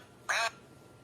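A single loud, nasal duck quack imitated by a voice, about a fifth of a second long, standing alone against a quiet background during a children's rhyme session.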